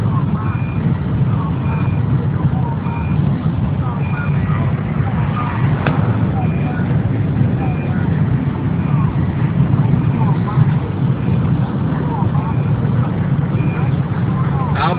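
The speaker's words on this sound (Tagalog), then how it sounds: "Nakabwisit yung tunog ng sasakyan" Engine drone and road rumble fill the cabin of a car driving at highway speed on a trip from Ahmadi to Kuwait City, a loud continuous hum with faint repeated warning chimes, while people talk over it.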